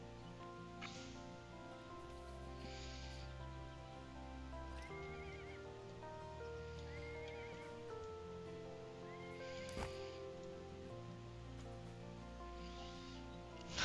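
Horse neighs and whinnies from a foal being raised in the online game ArcheAge, recurring several times over a steady game ambience of rain-like background and soft music.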